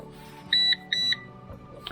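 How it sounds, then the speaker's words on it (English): A PowerShield PSCRT2000 line-interactive UPS sounds its alarm after the battery is reconnected, giving two loud, sharp, high-pitched beeps in close succession over a faint background hum. "and the alarm will still be active."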